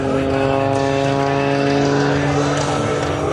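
A propeller-driven aerobatic plane's engine drones steadily and loudly through a loop at the 2010 Abbotsford Airshow, its harmonic hum unbroken from start to finish, with a commentator's voice over the top.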